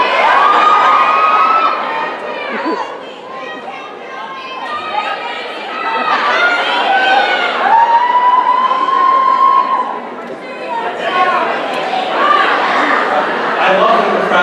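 A convention panel crowd shouts and cheers, with high-pitched voices and chatter swelling in loud waves and dipping briefly between bursts.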